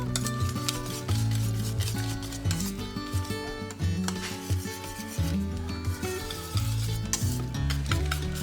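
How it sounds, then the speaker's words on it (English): A spoon stirs thickening cheese sauce in a pot, with repeated scraping strokes and metallic clinks against the pan over a faint sizzle, close and fairly loud. "I'm just going to keep stirring this until it thickens up"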